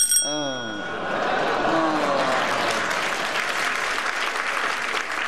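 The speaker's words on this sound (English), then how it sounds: "you've got a well-deserved round of applause" A studio audience at a panel game bursts into applause after a short whistle-like tone, then keeps clapping in a full, steady wave that lasts to the end.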